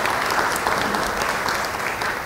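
A church congregation bursts into loud, sustained applause at a sermon, dense overlapping clapping filling the room from start to finish with no voices above it.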